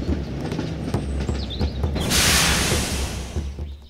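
A toy mini tractor-train rolls in reverse along a road, giving a steady rumbling clatter with a broadband whoosh of rolling noise that swells midway through, close and alone.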